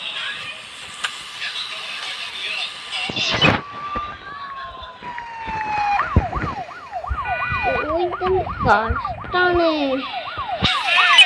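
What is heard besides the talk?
police car siren in a video game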